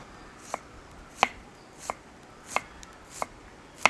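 Knife chopping an onion on a board with six sharp, evenly spaced cuts, roughly one every two-thirds of a second, close and crisp against a quiet room.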